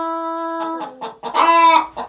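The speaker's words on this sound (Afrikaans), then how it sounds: "Ons noem 'n mamma hoender 'n hen." A mother hen on a farm clucks in a short series of close, loud calls after a steady pitched tone, coming out of a barn.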